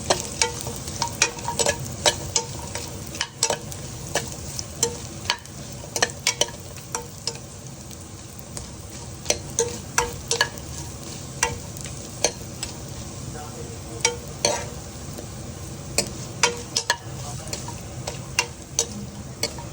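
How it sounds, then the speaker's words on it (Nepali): Masaura lentil nuggets fry in hot oil with a dense, continuous crackling sizzle, dotted throughout by irregular ticks and spatter pops, with nothing else over it for nearly twenty seconds. "अब यसलाई रातोसँग भुट्नुपर्छ मस्यौरालाई।"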